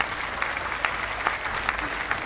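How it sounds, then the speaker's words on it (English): Applause from a crowd plays on a game stream, a steady wash of many hands clapping with a few sharper claps standing out, moderately loud and without talk over it. "Here's a nice applause for you"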